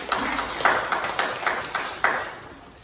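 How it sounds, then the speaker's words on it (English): A church congregation claps hands in praise during a worship service, a run of sharp, bright, fairly loud claps with a few stronger accents before the sound thins out toward the end. "Can we clap our hands to Him?"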